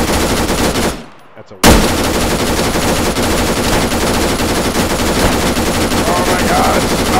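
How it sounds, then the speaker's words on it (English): Sustained automatic gunfire in the military video game Arma, Altis Escape, a dense, loud, continuous burst broken by one brief gap, with a voice talking briefly over it. "Oh my god, stop shooting."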